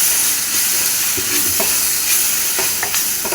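Masala with ground fennel and kitchen king spice being mixed into a dish on the stove, giving a loud close hiss of frying with a few soft spoon scrapes, brief and steady, no voices.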